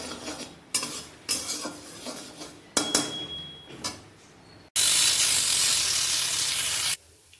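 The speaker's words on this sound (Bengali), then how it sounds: "মুগ ডালটা প্রথমে ভেজে নেব।" Mung dal is dry-roasted in a pan, with a spoon scraping and clinking against the metal in several close strokes, then a loud, steady hiss of grains being moved around that holds for a couple of seconds before stopping abruptly.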